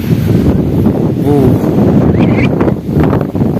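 Strong dry wind blows across open rice fields, buffeting the microphone with a loud, rough rumble while someone talks over it.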